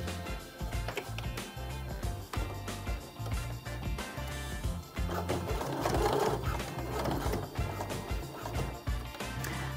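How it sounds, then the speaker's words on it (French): Sewing machine stitching a holding seam along a strap for a belt bag, a rapid rhythmic mechanical chatter of the needle running continuously and close up, with no speech over it. "on passe sous la machine et on réalise une couture de maintien"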